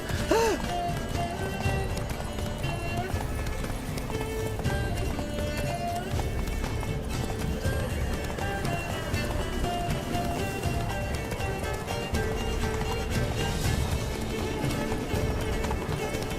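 Roach the horse gallops in The Witcher 3: Blood and Wine, a fast steady clip-clop of hooves running on under game music and voiced character dialogue.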